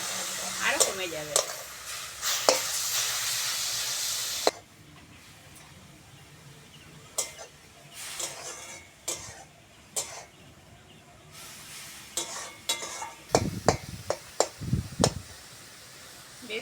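Fenugreek greens fried and stirred in a Bengali kadai, tender leaves giving off water: a steady sizzle at first, then quieter stretches broken by scraping spatula strokes and clatter, with a faint voice briefly.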